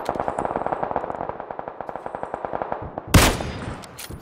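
Rapid sniper-rifle gunfire in the battle-royale game PUBG: a fast, steady string of sharp shots ending in one louder, heavier blast.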